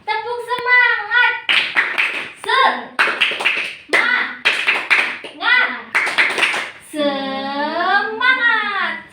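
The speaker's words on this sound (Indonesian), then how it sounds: "Ya kita tepuk semangat dulu yuk, biar semangat yuk. Tepuk semangat." A class of children in a school lesson claps and chants a rhythmic 'tepuk semangat' cheer, with sharp clap bursts in a quick patterned beat between loud sung voices, close and energetic.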